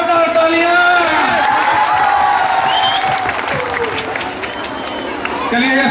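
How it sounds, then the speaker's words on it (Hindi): At a school project fair, a crowd claps loudly and steadily while a voice or tonal sound carries over the applause, the clapping sustained throughout. "चलिए जोरदार तालियां।"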